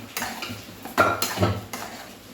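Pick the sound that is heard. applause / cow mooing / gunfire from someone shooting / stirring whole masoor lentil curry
stirring whole masoor lentil curry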